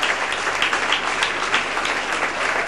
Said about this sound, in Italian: E intanto Fontana esce dalla partita, porta a casa un altro applauso